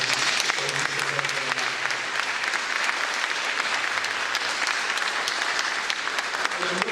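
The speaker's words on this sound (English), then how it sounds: "Yes, you have to clap." A graduation audience at a high school summer ceremony claps steadily, a dense sustained wash of many hands that stays loud and even from start to finish.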